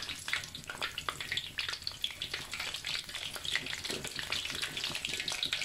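Thai-style crispy pork belly pieces frying in hot oil, a close, busy crackle of popping bubbles and spatters that keeps up without a break.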